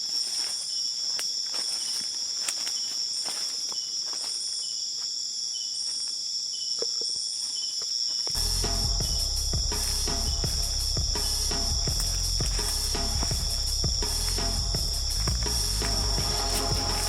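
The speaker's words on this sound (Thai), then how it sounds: "ฟังเสียงนกเสียงหนูเสียงจิ้งหรีดมันอย่างเสียงจักจั่น" Crickets chirp continuously at night in a deep forest, a dense high insect trill that persists throughout, joined halfway by a louder close layer of rustling and low rumbling activity.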